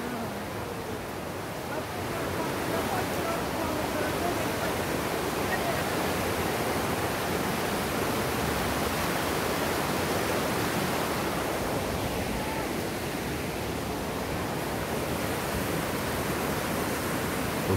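Water flowing inside Daegeumgul cave in Samcheok, a steady broad rushing wash that swells after the first couple of seconds and holds at an even level throughout.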